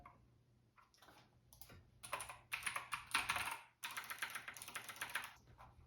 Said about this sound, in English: the Keychron C2 wired keyboard with the blue switches